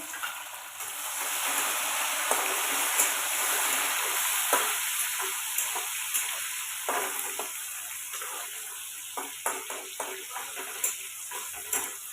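Tomato pieces dropped into hot oil in a village kitchen, a loud bright sizzle that slowly settles, broken by scraping stirs and light clicks of a spoon against the pan toward the end.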